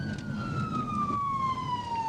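A police siren wails as a single long tone that slowly falls in pitch, heard at moderate distance over the low rumble of road traffic.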